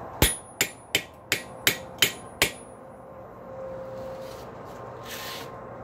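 Seven sharp metallic hammer strikes drive a curved-edge chisel into a steel rail spike, evenly spaced and ringing briefly, followed by quieter shop noise and faint shuffling.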